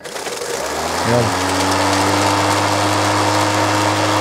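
A Ryobi 18V brushless cordless electric lawn mower with a 40 cm deck starts up and settles into a steady, loud whirring hum that runs continuously, with faint background noise.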